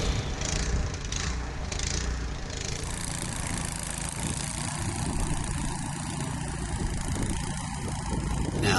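A snow blower engine runs steadily at an off-grid cabin build site with wind blowing hard, giving a constant loud mechanical drone mixed with broad gusty rushing throughout.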